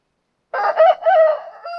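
A rooster gives one loud, close crow after a moment of silence.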